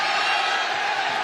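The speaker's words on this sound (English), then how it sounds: "Crowd here frenzied here in San Bernardino, California" Frenzied boxing arena crowd in San Bernardino, California, roaring and cheering as a dense, steady wall of noise during a professional bout, with no clear break in the din.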